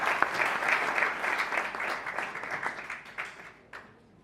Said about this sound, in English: A round of applause for her as she takes the stage.